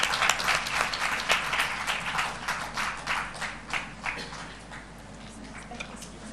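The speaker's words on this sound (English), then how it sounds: "Please welcome our dignitaries with a huge round of applause." Audience applause at an international health conference, a crowd clapping loudly with sharp individual claps at first, then thinning and tapering off toward the end.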